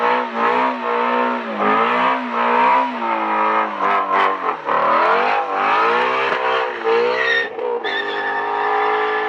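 Ford car with a 5.2-litre flat-plane-crank V8 revving hard and loud, rising and falling through repeated high-pitched engine sweeps with brief dips between pulls, heard alone without talk.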